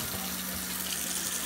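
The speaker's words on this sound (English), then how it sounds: "Flushing the toilet." A toilet flushing in a house bathroom with vinyl flooring: a steady, fairly quiet rush of running water that carries on through the short stretch without a break.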